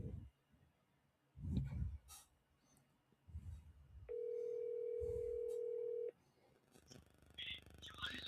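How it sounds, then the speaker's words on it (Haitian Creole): A telephone sounds a single steady tone lasting about two seconds, fairly loud and clean, set between stretches of quiet talk and room noise. "Téléphone a sonné."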